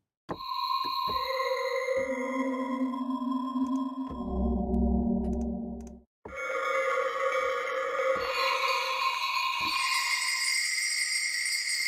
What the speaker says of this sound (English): You can hear the metal sleigh in this one.